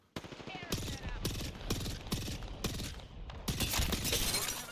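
Gunfire in the video game Apex Legends, loud sharp bursts repeating at short intervals with shattering crackle, close and continuous throughout.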